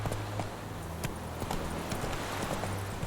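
Roach, a horse in the video game Witcher 3, moving on hooves in a steady clip-clop rhythm, close and moderately loud over a constant low game hum, with no talk.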